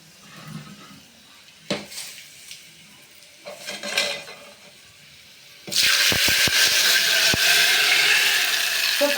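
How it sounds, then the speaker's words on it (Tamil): Mustard seeds, garlic and dried chillies sizzle loudly in hot oil for tempering palak keerai kadaiyal, a steady crackling hiss that starts suddenly after a few quiet kitchen clinks and pan sounds, with sharp pops scattered through it. "கடுகு பொரியுது பார்த்தீங்களா"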